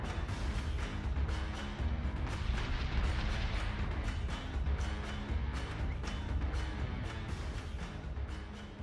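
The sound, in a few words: incoming missiles and explosions in Battlestar Galactica Deadlock video game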